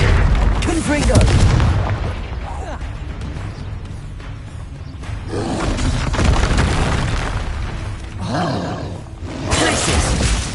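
Repeated heavy fiery blasts from the Confringo spell in Hogwarts Legacy, several loud booming bursts spread across the stretch with roaring tails, mixed with other game effects and a voice.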